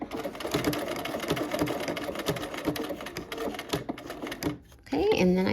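A sewing machine stitches fabric slowly with a steady, rapid mechanical chatter. The needle rhythm pauses briefly near the end, and a person talks over the whirring.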